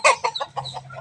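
Chickens cluck in a quick series of short, close calls during feeding, several overlapping bursts over a low steady background hum.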